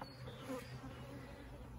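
A honeybee swarm hums steadily up close, a continuous dense buzz of many wings with no pauses, faint overall and heard alone without any talking.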